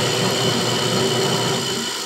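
A cellulose insulation blower runs steadily, pushing loose cellulose fibre down its hose with a loud, continuous mechanical roar and rushing air that hold even from start to finish.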